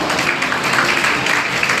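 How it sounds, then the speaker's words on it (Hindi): Audience applause at an International Girl Child Day welcome and felicitation ceremony: a dense, steady wash of many hands clapping, sustained at even loudness throughout with no voices over it. "तालियां बजाते रहे"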